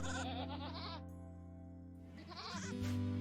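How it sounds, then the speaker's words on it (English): Goats in the video game RimWorld bleat while being milked, a short, close, wavering bleat followed by another after a brief pause, fairly faint overall. "Okay, you're milking the goats."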